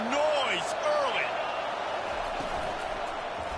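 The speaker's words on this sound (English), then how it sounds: "This crowd bringing the energy and noise early" At a college football game between South Carolina and Oklahoma, a stadium crowd sends up a broad, steady roar, with shouts and a few rising whoops standing out early.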